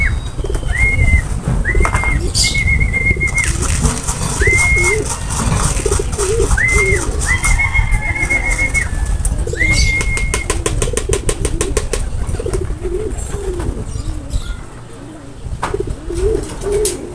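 Racing pigeons returning from a training toss coo repeatedly and flap their wings close by, with bursts of wingbeats over steady cooing and some faint background engine hum.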